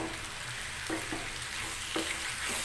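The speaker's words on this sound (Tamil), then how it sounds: "தக்காளி நல்லா வதங்கட்டும்" Tomatoes sautéing in a pan for radish chutney, a quiet steady sizzle with a few light spoon taps against the pan.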